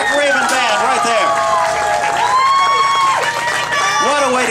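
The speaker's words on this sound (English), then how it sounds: "We can't let these guys go without a big, big round of applause" Audience applause and cheering for a live band at a concert, loud and sustained clapping with whoops and shouts from a nearby crowd, while voices call out across it.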